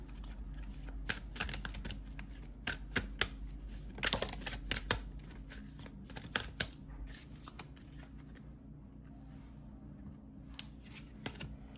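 A deck of oracle cards being shuffled by hand, with repeated soft riffling and flicking bursts in irregular clusters, close and fairly quiet, then settling into near silence toward the end.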